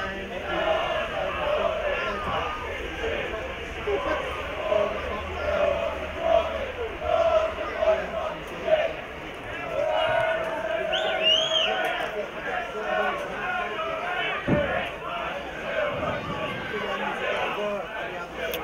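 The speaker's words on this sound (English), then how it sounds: "We're listening to a battle of the crowds from left." Rival football crowds chant against each other at a St Neots Town vs Kettering Town match: a steady, sung roar of many voices carrying from a distance across the ground, rising and falling continuously.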